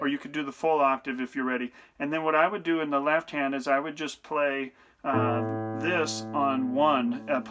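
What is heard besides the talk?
No everyday noises stand out.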